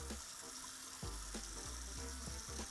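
Hot tap water runs steadily into a sink during handwashing, a continuous close hiss and splash with a few soft clicks and knocks of movement.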